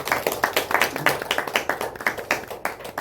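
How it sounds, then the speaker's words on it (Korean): A church congregation at a Wednesday service claps in unison in praise, a loud, evenly paced rhythmic beat of many hands, roughly four claps per second, continuing without pause. "하나님께 영광의 박수 올려드리십시다"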